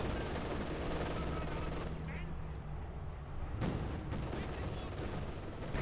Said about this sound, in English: B4 shoots here and direct hit, almost taking out the entire gun squad on Ludwig